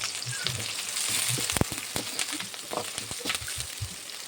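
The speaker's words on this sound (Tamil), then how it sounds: "சின்ன வெங்காயம் கூட தான் மீன் குழம்புக்கு சாப்பிட டேஸ்ட்டாக இருக்கும் அது கூடவே ஒரு நாலு பல்லு பூண்டு சேர்த்துப்போம் சேர்த்துட்டு நல்லா கிளறி விட்டுட்டு" Shallots and garlic frying in a pan for fish curry, a steady close sizzle with scraping stir strokes and a few sharp clacks of the spoon, heard alone without talk.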